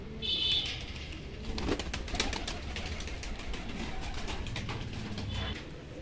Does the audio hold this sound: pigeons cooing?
yes